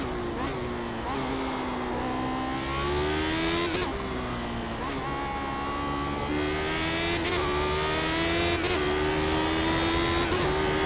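Lotus 79 race car in a sim racing game at Imola, its engine droning steadily with rising harmonic sweeps as it accelerates through the gears, loud and continuous, with shifts and brief dips between pulls.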